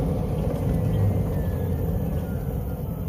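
A Club Car Onward lithium golf cart coasts down with regenerative braking. It gives a steady, loud rumble of motor and road noise with faint whine and no voices.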